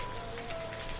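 Heavy morning rain falls steadily in Coorg as a constant dense hiss on surfaces, close and even, with no voices.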